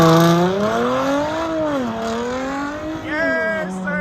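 A car's engine revs hard while sliding through snow, its pitch climbing and falling in long sweeping arcs as the wheels spin, loud and close and continuous throughout.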